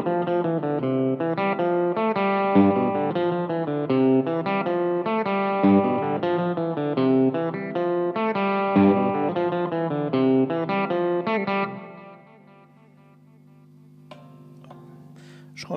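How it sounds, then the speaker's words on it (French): A 2012 Gibson Midtown electric guitar with P90 pickups, played through the bridge pickup with overdrive and distortion, strums dense driven chords steadily for about twelve seconds before the sound drops to a sustained ringing tone and soft handling noises. "on va tester la guitare en son clair avec une overdrive et une légère distorsion aussi sur toutes les positions de micro"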